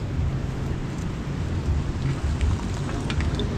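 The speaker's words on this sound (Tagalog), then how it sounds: "dito na lang tayo kasi lumakas yung ulan" Steady, dense heavy rain pours down continuously at a beach, a broadband wash of drops with faint patter detail and no voices.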